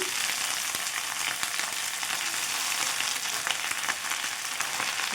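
Moringa leaves fry in a hot pan for dal, giving a steady, close, bright sizzle with occasional small pops and crackles throughout and no talking.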